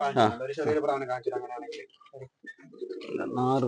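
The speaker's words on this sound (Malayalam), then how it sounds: "ഇവിടെ നമ്മൾ നാഗർകോവിൽ ഐറ്റം പ്രാവുണ്ട്" Low pigeon cooing from a large Nagercoil-breed pigeon, over ten years old, sits close beneath steady, prominent talking that runs through almost the whole stretch.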